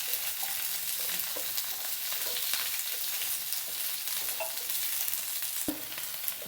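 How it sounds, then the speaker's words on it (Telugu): Capsicum pieces and paneer sauté in a pan, a steady close sizzle with occasional stirring clatter and one sharp knock of a utensil against the pan. "ఫ్రై అవుతున్నాయి."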